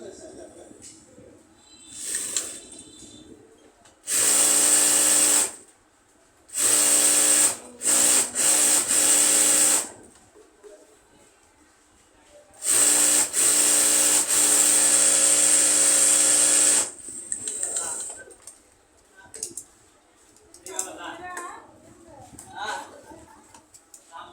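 A sewing machine stitches pyjama fabric at a tailor's, running in three loud, close bursts of steady motor whine, with quieter spells of talking in between.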